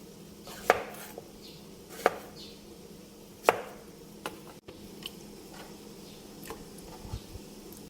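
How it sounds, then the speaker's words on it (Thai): A knife cuts young Thai eggplants into quarters on a board, three sharp distinct chops spaced apart, then lighter ticks and knocks nearby, no speech. "มะเขือเปราะนะคะก็เลือกที่มันอ่อนๆนะคะ แล้วก็เอามาผ่าสี่ค่ะ"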